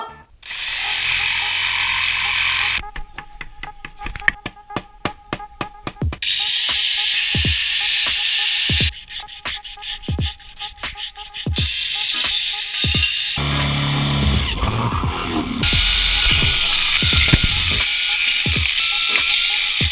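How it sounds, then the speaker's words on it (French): A big power drill whirs in short, repeated bursts with pauses between them, mixed with other loud sounds. "C'est ma première fois avec une grosse perceuse."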